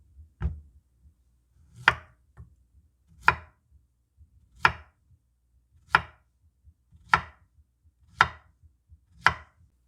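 A whole zucchini is sliced into thick 1 cm rounds with about eight crisp, evenly spaced knife chops, close and clear, with no talking.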